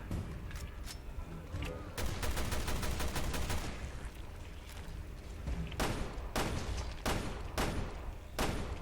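Rapid bursts of gunfire from Resident Evil Revelations 2, a dense volley of shots in the middle followed by separate loud single shots near the end, with game sound effects running steadily underneath.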